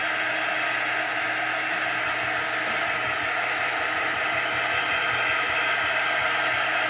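A hair dryer blows steadily and loudly to dry chalk paste on a nest craft piece, a continuous close whir with no pauses and no talk.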